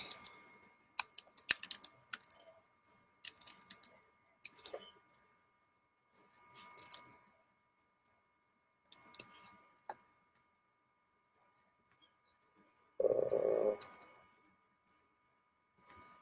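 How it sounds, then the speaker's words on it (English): Computer mouse clicks and keyboard typing during a screen-share design session, coming in scattered quiet bursts separated by silence, with one louder rustling patch near the end. "I'm sorry about all that clicking that you hear there"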